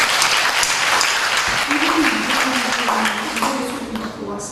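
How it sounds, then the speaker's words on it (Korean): A congregation at a Sunday church service gives a big round of applause, dense steady clapping filling the room while a voice speaks over it, tapering slightly toward the end. "집사님 위해서 큰 박수 하겠습니다."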